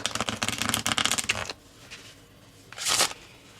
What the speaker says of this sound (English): I'm going to give them also a shuffle.